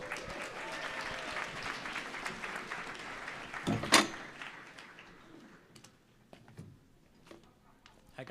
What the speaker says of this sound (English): Please give bet streams a big round of applause.